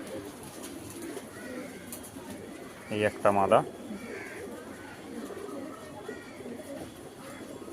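Pigeons of a show breed, kept by a fancier, give a short burst of throaty cooing partway through while someone talks nearby, over a low background murmur.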